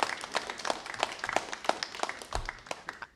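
An audience at a mayor's youth mental health announcement breaks into scattered applause, individual claps clearly distinct at a moderate distance, lasting about three seconds.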